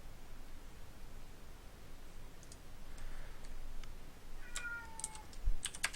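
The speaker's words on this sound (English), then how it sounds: "Oh, there's my cat." A cat meows faintly a few times over steady background hiss, and computer keyboard typing clicks in short bursts nearby.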